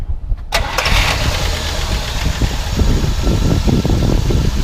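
A 1964 Buick Electra engine cranks briefly and catches, then settles into a steady, loud, rumbling idle that carries on alone with a constant low throb and fan-like whir.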